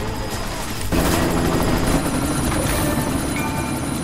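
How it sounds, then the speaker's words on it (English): A helicopter in the video game Deus Ex: Mankind Divided thrums loudly and continuously, with a sudden burst of heavier noise about a second in, like gunfire or an impact, heard without talk. "You've got to stop that chopper."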